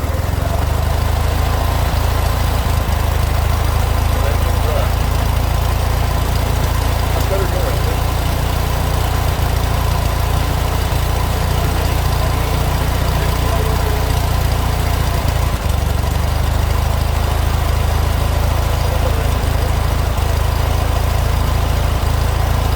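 An old Fiat 500 engine, freshly restarted after sixteen years stored in a garage, runs steadily at a loud, rough idle with a constant low mechanical drone throughout, close to the microphone.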